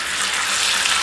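Water being poured into a hot pan while dhokla is cooked, a steady hiss and gush of liquid meeting heat, close and continuous for about a second with no talking.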